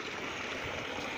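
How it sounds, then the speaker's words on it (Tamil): A submersible motor pumps water up from a 200-foot-deep borewell, giving a steady, dense rushing and gushing of flowing water that stays loud and unbroken throughout, with no voices. "இதில் இப்போ மோட்டார் போட்டு இதை தண்ணி இறச்சிக்கிட்டு இருக்கோம்"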